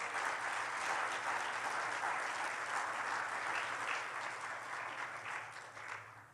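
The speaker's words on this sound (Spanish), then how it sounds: "Dele el aplauso." A church congregation claps steadily during a sermon, a dense continuous round of applause that slowly fades toward the end, heard from a moderate distance.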